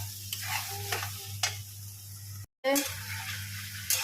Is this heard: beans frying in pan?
yes